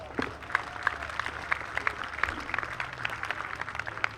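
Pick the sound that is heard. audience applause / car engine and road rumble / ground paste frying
audience applause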